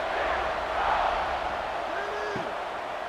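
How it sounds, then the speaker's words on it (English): A large college football stadium crowd at the Alamo Bowl, USC against TCU, murmurs and roars in a continuous wash after a touchdown, with a distant whistle-like tone rising over the broad, steady noise. "this crowd is buzzing after that last score"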